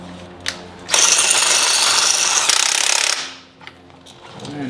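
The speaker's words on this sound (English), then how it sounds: "And then just keep ratcheting down until you feel a top hat not have pressure on it." A ratchet with a 22 mm socket working on a Porsche 987 strut gives a loud, close burst of rapid clicking lasting about two seconds, followed by a few fainter clicks and knocks.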